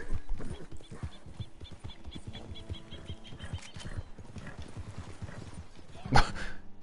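Horse hooves clip-clop steadily in Red Dead Redemption 2, a rhythmic run of close hoofbeats with a brief whinny-like burst near the end.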